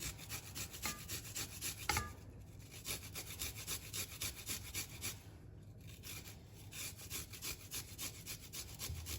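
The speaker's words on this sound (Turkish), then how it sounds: "Bir tane şöyle iri bir diş sarımsak rendeliyorum" A large garlic clove is rubbed against a grater for guacamole, giving a steady rasping, scraping rhythm of quick repeated strokes, close and moderately loud, with no talking.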